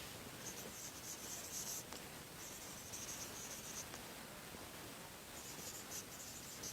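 Pen scratching steadily across paper as an exam name is written out, a continuous soft scraping with small strokes and pauses, close and quiet with no voices.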